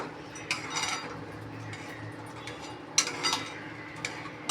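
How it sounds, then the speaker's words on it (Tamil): A spoon scrapes and clinks against a pan as food is stirred until it dries out, giving close, irregular scraping strokes with a few sharper metallic taps over a low steady background. "நல்லா ட்ரை ஆகிற வரைக்கும் கிண்டணும்."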